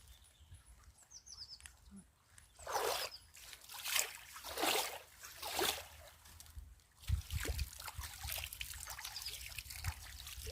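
Clear, cool water trickles and splashes down a waterfall stream behind a house, a steady close babble rising into louder spattering bursts and settling back into continuous flow.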